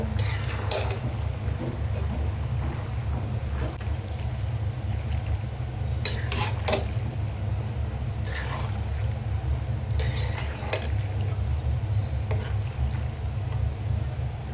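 Pasta tossed with spices in a pan, with soft scraping and stirring bursts over a steady low kitchen hum, no talking.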